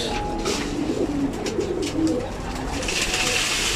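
Pigeons coo steadily inside their loft, a close, continuous layered murmur of soft throaty calls with no voices.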